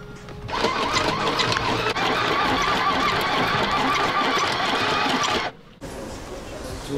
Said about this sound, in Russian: таким специальным зигзагом для Харона, авторским, шью